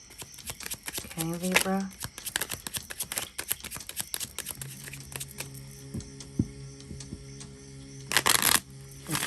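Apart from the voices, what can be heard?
shuffling tarot cards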